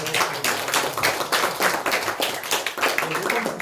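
Members of a Korean church congregation at a Sunday service clap to welcome a newcomer, brisk rhythmic claps close by with a few voices mixed in.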